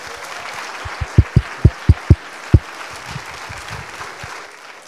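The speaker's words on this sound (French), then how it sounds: "Je vous demande de l'applaudir et je lui passe le micro." A university degree ceremony audience applauds the university president with scattered, fairly thin clapping, marked by a few sharp, loud, close claps within a softer room wash that fades out at the end.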